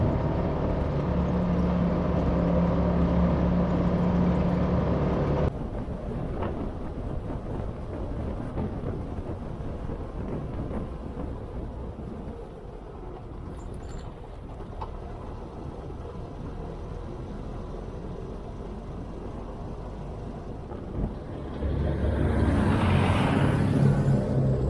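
A Trabant P60 car drives along with a steady, loud engine drone and road and wind rumble from inside the cabin, continuous throughout, with a surge in noise near the end.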